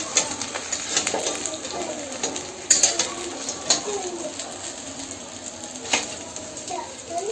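Whole cumin and dried chillies crackle and sizzle in hot oil with a steady hiss and sharp pops, and birds chirp faintly in the background.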